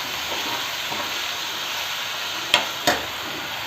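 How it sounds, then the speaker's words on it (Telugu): Chicken hitting a hot pan with ginger-garlic paste for a dry masala curry gives a steady hissing sizzle, broken by two sharp knocks and scrapes of stirring near the end. "ఇప్పుడు చికెన్ వేసుకుందాం."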